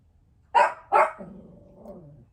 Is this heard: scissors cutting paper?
no